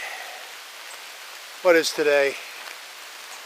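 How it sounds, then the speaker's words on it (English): Steady rain falls on a June morning, a soft continuous hiss running through the whole stretch, with a person speaking briefly over it in the middle. "It's basically raining."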